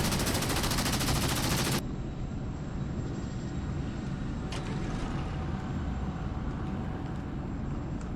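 Pantsir SA-19 air defence guns in the DCS combat simulator fire a dense, rapid buzzing burst for about two seconds, then a lingering rumble with a faint distant thump follows.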